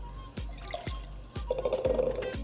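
Pusser's rum poured into a cocktail mixing vessel, with a few soft thuds before a thin, steady trickling stream near the end, close and fairly quiet.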